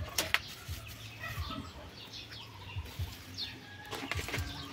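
Backyard hens such as a Black Australorp and Rhode Island at a nesting box cluck softly, with scattered wing flaps and brief rustling bursts at close range.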